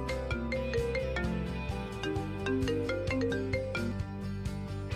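A melodic phone ringtone plays continuously, with bright plucked notes repeating in a steady pattern, fairly loud and with no talking.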